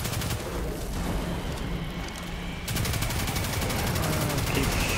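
Rapid gunfire from Destiny 2 shooter combat, a dense continuous rattle of shots running through the whole stretch and growing heavier in the second half, with game ambience underneath.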